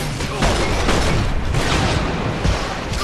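Rapid gunfire from a weapon in the video game Resistance 3, with dense repeated bursts and booming impacts throughout.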